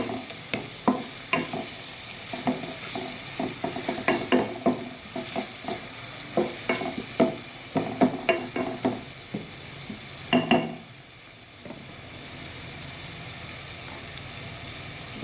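Ginger garlic paste stir-fried in a pan for a chicken and potato curry, a close sizzle broken by frequent spatula scrapes and knocks in an uneven rhythm, then a quieter steady hiss near the end.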